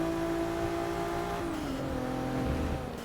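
A Volvo S60 race car in the video game Forza Motorsport 6 drones with a loud, constant engine note that dips and shifts pitch partway through, with a hint of tyre noise.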